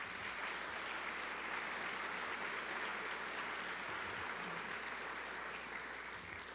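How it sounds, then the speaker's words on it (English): A round of applause fills a reception hall at a congressional art competition, steady, dense clapping from a crowd that holds at an even level for several seconds without voices standing out. "So a big round of applause for Tim Lang."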